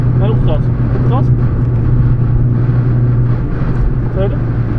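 Volkswagen Golf 3 with 100 bhp on winter tyres at full throttle on the Zandvoort track, heard from inside as a loud, steady engine drone with road roar throughout.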